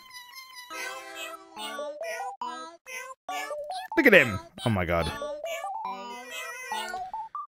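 Synthesized cat meows from the video game Hypnospace Outlaw, repeating in a steady run of short, tonal, video-game-style calls, while a person talks over the middle of the sequence.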